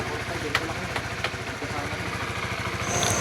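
A Honda CBR 150fi motorcycle engine idles with a steady, rapid low pulse, and a few sharp clicks sound early on.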